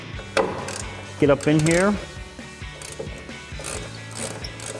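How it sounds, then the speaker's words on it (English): A 3/8 ratchet driving a T30 Torx bit to remove tail light bolts on a 2014-2021 Toyota Tundra gives close, rapid clicking pawl bursts in short strokes, while someone speaks briefly. "now I'm going to take my T30 Torx and my 3/8 ratchet"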